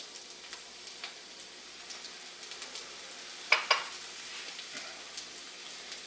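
A grilled burger patty reheats in a hot pan with a steady, soft sizzle throughout, broken by a couple of sharper crackling pops midway; no voices.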